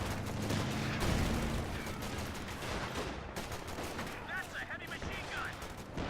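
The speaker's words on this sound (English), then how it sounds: "Pack-Howie fires its first shot, gets 2 very good kills." Pack howitzer fire in the Company of Heroes 2 war game, a dense rumbling battle mix of gunfire and blasts that stays loud at first, then thins into scattered shots with a faint whistling overhead.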